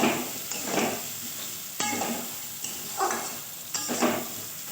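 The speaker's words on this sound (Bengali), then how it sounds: "নুনটা দিয়ে আমি আবারও ভালো করে কষাতে থাকবো" Potato, watermelon and shrimp curry stir-fried in a pan with salt and sugar and no water, giving repeated scraping stirs over a steady sizzle, close and moderately loud with no talking.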